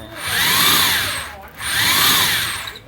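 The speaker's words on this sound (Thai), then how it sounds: "สว่านใหญ่ หัวจำปาไม่ได้ใส่ดอกใหญ่นะครับ เช็ด สว่านตัวใหญ่นะ" Two long, steady bursts of a large high-pitched electric drill whining, separated by a brief pause, fairly loud and close with no talking, while making a home air-conditioner washing pump nozzle.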